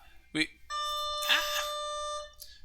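A school bell rings during an algebra lesson, sounding as a sustained electronic chime for about a second and a half. Brief speech-like sounds come just before and around it.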